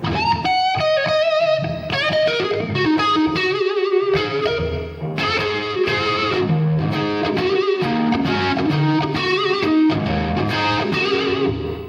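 An electric guitar through reverb and graphic EQ effects pedals plays a continuous run of distorted, effected notes and chords, with a washed, reverberant tone throughout and no talking.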